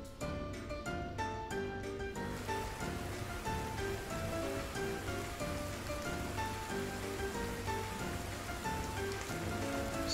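Steady rain in the survival game Sons Of The Forest, a dense continuous patter across the whole stretch with soft ambient music tones layered on top and no talking.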